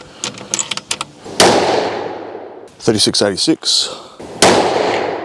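Two loud outdoor rifle shots fired while testing a Discoveropt HD GEN-II 5-30x56 first focal plane scope, each a sharp crack with a lingering rolling echo; someone speaks briefly between them and faint clicks come before the first.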